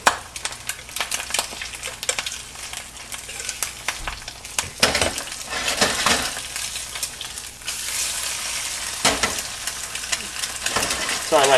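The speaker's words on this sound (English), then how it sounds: "So our fried eggs." Eggs frying in a hot pan give off a steady, close crackling sizzle that swells and dips over several seconds, with occasional scraping and stirring noises.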